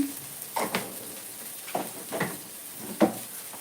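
Ground cumin and coriander sizzling in a hot pan, a soft steady hiss broken by a few short scraping bursts of stirring, faint and close.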